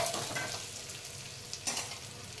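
Chopped tomatoes land in a hot frying pan of masala rice base and sizzle steadily, with a brief sharper hiss midway; close and fairly quiet, no talking.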